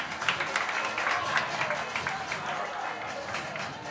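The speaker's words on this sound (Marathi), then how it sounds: "कीर्ती भोसले याच्यासाठी जोरदार टाळ्या झाल्या पाहिजेत." An audience at a prize distribution ceremony claps in a steady, dense wash of applause that carries through the whole stretch without letting up.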